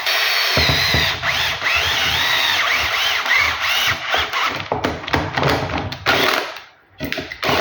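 A power drill fitted with a stepped, pagoda-shaped drill bit bores through a plastic hoe, giving a loud, close, whining grind in several bursts with short pauses between them.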